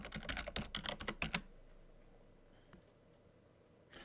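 Rapid clicking keystrokes on a computer keyboard as an admin username and password are entered, a close burst lasting about a second and a half, followed by near quiet and a couple of faint isolated taps.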